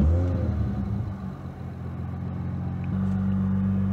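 A BMW with a twin-turbo N54 engine drives along, its steady low engine rumble shifting slightly as it moves, close and continuous throughout with no talking.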